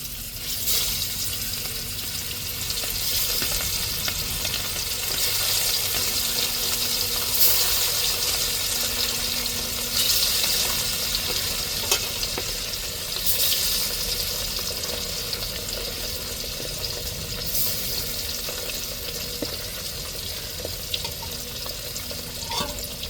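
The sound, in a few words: fish tail frying in oil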